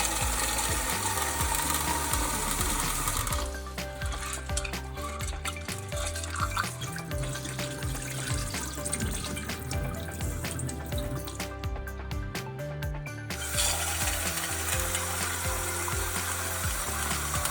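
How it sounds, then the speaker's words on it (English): Dried chickpeas are rinsed under running water, a loud steady gush that turns into uneven sloshing and rattling as they are swirled, then returns to a full continuous stream, with no talking. "Rinse them thoroughly with lots of water to remove any dirt"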